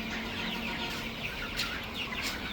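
Poultry farm with a mass of chickens, a steady crowded chorus of clucks and calls overlapping continuously at moderate distance, fairly quiet, with no one speaking.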